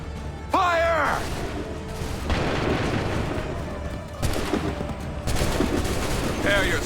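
Musket volleys crack and boom from ranks of soldiers at the Lexington and Bunker Hill battles in Assassin's Creed 3, several loud overlapping bursts at intervals amid battle noise and shouted voices.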